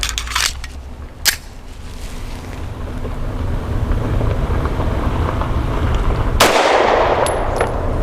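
A few gunshots from a SAR USA P8L pistol loaded with Norma MHP 108-grain hollow points, sounding as sharp distant cracks early on, set against steady outdoor wind rumble and a gusty rush near the end.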